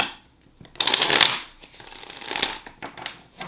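A deck of cards riffled and shuffled up close, a crisp burst of fluttering followed by a softer second shuffle and light handling.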